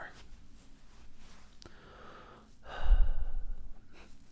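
A single exhaled breath, a soft breathy push swelling near the end, heard close and intimate over faint low rustling, with no talking.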